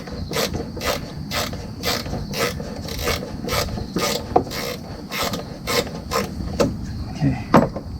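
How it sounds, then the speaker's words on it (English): A ratchet clicks in rapid repeated bursts while loosening a screw on a 2014 GMC Acadia 3.6L timing chain engine, close and crisp, with steady mechanical rubbing between strokes. "And loosen the screw."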